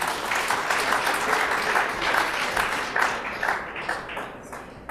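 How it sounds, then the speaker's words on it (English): A conference audience gives a sustained round of applause for a speaker, a dense, fairly loud wash of clapping that slowly tapers off toward the end. "A round of applause for Edward Lalumbe."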